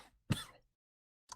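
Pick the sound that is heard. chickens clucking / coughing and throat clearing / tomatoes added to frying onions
coughing and throat clearing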